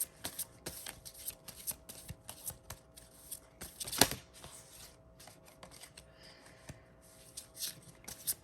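Tarot cards are shuffled and riffled close by in quick bursts of papery flicking and tapping, with a sharp snap midway and short pauses between.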